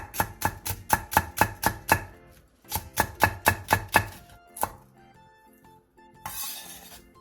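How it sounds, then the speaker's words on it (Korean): A knife slices green onion, split lengthwise, on a cutting board in two quick rhythmic bursts of crisp, evenly spaced chops, followed by a few lighter taps and a short rustle. "대파 3분의 1개를 길게 반으로 갈라 쫑쫑 썰어 주세요."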